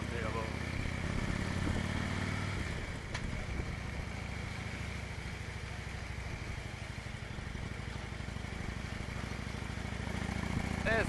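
Motorcycle engine while riding through the Beaufortain mountains, a steady low rumble and drone with constant wind roar across the whole stretch, no speech.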